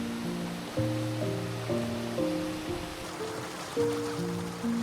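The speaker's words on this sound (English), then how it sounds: "This Crolly waterfall is next to the Loch Ascardan." Crolly waterfall beside Loch Ascardan in Donegal, Ireland: a steady, broadband rush of falling water, continuous and fairly close, with soft low rumble under a faint wind-like hiss.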